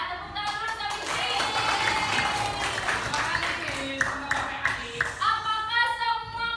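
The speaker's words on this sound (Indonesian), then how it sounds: "Tepuk tangan dulu Sapikri." Elementary school class applauding a student, with scattered, uneven clapping from children mixed with their loud voices chanting and calling out in a classroom.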